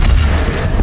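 A heavy rumbling crash as a bridge collapses after being shot down in Horizon Zero Dawn, a dense, loud low roar sustained throughout.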